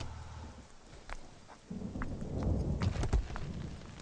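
In a Kannada romantic drama film scene, thunder rumbles in low, rolling bursts while steady rain patters, the downpour swelling louder halfway through with sharp drop impacts near the end.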